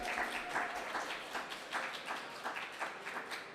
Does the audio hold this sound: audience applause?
yes